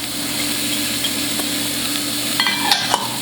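Onions and white carrots sizzle steadily in a soup pot, a continuous close frying hiss with a few faint clinks of stirring near the end and no talking.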